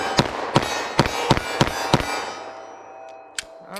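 A short-barrel 9mm handgun firing +P rounds, five rapid sharp shots in quick succession followed by a brief lull and one further sharp crack, loud and close.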